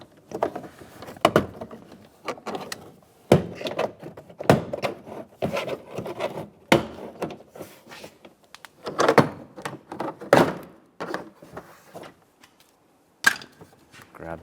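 A trim tool pries the push pins of a 2007-2013 Chevrolet Silverado 1500 interior door panel loose, giving a run of sharp plastic pops, clicks and scrapes at close range in irregular bursts, with a short pause near the end.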